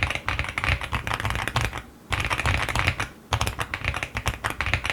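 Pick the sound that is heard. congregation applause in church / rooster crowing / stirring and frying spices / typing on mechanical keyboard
typing on mechanical keyboard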